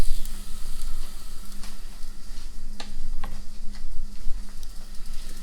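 Onions sizzle in a pot for jerk turkey gravy, a steady loud crackling hiss with scattered ticks and pops over a low hum.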